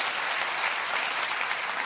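A studio audience claps loudly and steadily in a dense, even burst of applause, with no voices over it, on a late-night comedy talk show.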